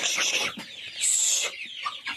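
Free-range village chickens cluck and squawk close by in a farmyard, with several short calls overlapping in an irregular, busy rhythm and a higher sustained cry near the middle.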